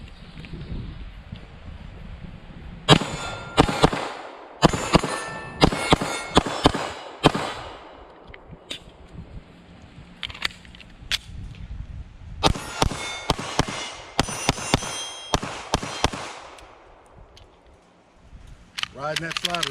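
A Canik TTI Combat 9mm pistol fires in sharp, loud bursts of rapid shots at an outdoor range, with pauses between strings and some talking mixed in.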